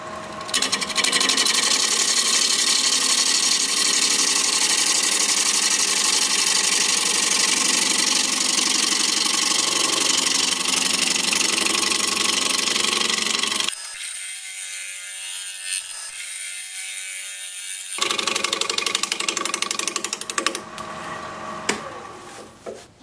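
A wood lathe turning a pepperwood blank at about 700 RPM, a loud continuous whirring hum with a rough chattering edge, running steadily up close, briefly dropping lower midway before resuming.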